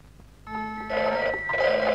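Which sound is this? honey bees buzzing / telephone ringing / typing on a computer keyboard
telephone ringing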